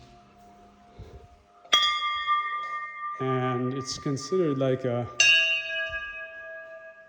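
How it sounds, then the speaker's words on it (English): Temple bells ring out in two clear strikes, each with a different tone and a long bright shimmering decay, close and loud, with a person talking briefly between the rings. "in temples and things, there will be bells, and actually you go around and do all of them, all 4. They have different tones."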